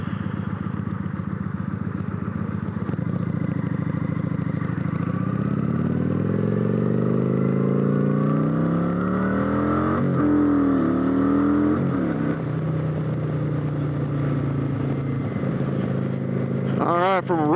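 Kawasaki Vulcan 900 motorcycle with stock setup accelerating from a rolling start up to about 45 mph, engine note rising steadily through smooth gear shifts, loud and close throughout.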